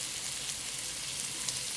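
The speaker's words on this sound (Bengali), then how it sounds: "এখন তাতে দেব রসুন বাটা" Garlic paste frying in a pan makes a continuous, even hiss of close sizzling at moderate loudness, with no voices.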